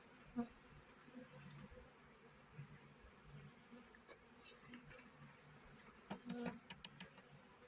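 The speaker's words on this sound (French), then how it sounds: "On va secouer toutes les abeilles qui y a autour." Faint, steady buzzing of many honeybees hovering nearby during a swarm being shaken, with scattered louder passes and light clicks and rustles underneath.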